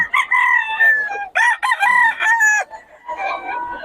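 A rooster crows loudly and close at a backyard poultry farm, several drawn-out crows in a row with brief gaps, no talking over them.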